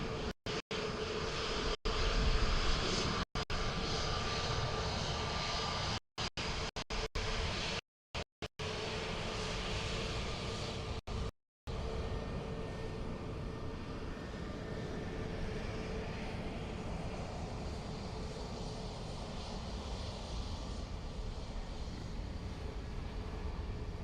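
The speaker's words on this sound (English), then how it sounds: "Another Ryanair down safely." A Ryanair airliner lands at Dublin Airport, heard as a steady, fairly distant jet roar that holds for most of the stretch, broken by a few brief dropouts, with no talking.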